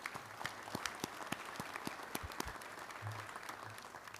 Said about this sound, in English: Please join with me in giving these individuals and groups a round of applause